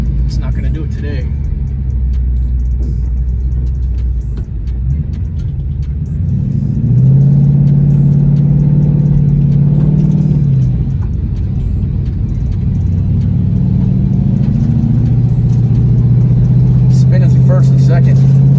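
A car engine holds a loud, steady rumble and climbs in pitch as it revs hard while the wheels spin in first, second and third, close and continuous, with someone talking over it.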